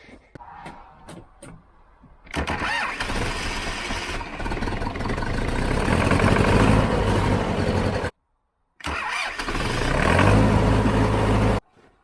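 A Zetor 7745 tractor with a new gear-reduction starter ticks and clicks briefly, then its engine runs loud and steady. The engine cuts out for a moment and then comes back at a strong, even run.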